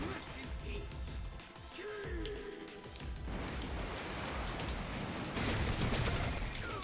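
Death Rain attack in No More Heroes 3 unleashes a dense, hissing downpour of crashing impacts that swells louder toward the end, with game music and effects layered underneath.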